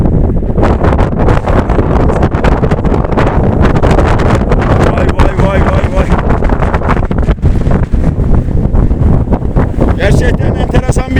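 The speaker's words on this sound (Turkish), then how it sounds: "Bu da çok rüzgar." Strong wind blasts hard against the microphone in loud, gusting bursts, with voices talking faintly underneath.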